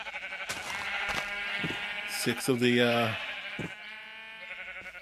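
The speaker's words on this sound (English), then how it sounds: "Pop down here to the sheep farm." Sheep bleat at a sheep farm in a video game, a clear drawn-out bleat rising over a dense bed of game music and ambience while someone talks throughout.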